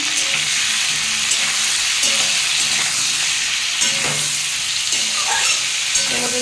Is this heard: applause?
no